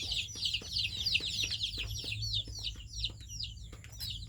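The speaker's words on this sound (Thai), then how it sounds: "นี่ก็ไก่หน่อยครับพี่น้อง ไก่หน่อย" Chickens cluck in a rapid, repeated series, close and fairly loud, over a low steady background hum on a Thai farm in the morning.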